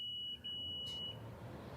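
A continuity tester checking the wiring of a Rock-Ola 1454 jukebox gives a faint, thin, steady electronic beep for about a second, then cuts out over a low background hum.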